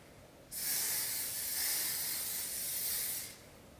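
Dry shampoo sprays from an aerosol can onto unwashed hair in one sustained, close, bright hiss lasting nearly three seconds, starting and stopping cleanly against a quiet room.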